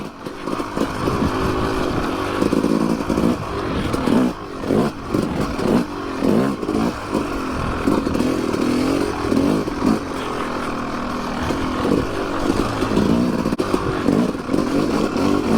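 A Yamaha YZ250 two-stroke dirt bike ridden on a trail, its engine buzzing loud and close throughout with repeated revs and throttle changes.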